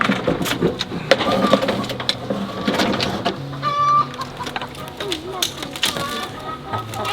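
Chickens cluck and squawk close by, with a person talking over them and a rustling, busy background throughout.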